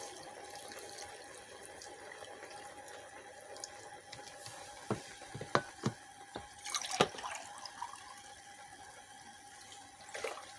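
Water from a glass poured into a cooking pot of sarson ka saag and palak with garlic-ginger paste, heard as faint trickling and splashing with a few louder splashes, over a steady kitchen hum and no talk.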